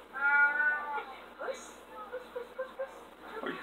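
A cat meows in the video game Alice: Madness Returns, one drawn-out tonal meow at the start followed by shorter cries, mixed with a person talking over the game audio.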